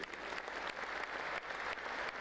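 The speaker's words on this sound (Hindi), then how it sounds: "जोरदार ताली भरत जैन के लिए।" Audience applause for Bharat Jain at the MI Utsav network marketing event: a steady, dense wash of hand clapping from a large crowd that stays loud for the whole stretch.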